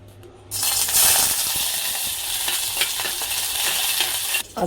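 Green peas and vegetables cook in a hot pan, giving a steady, close frying sizzle that starts abruptly and holds loud with faint stirring scrapes, cutting off near the end.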